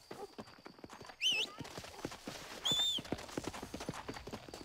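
Horse hooves clip-clopping steadily in Red Dead Redemption, with two bright whinnying neighs rising above the footfalls, the second one longer.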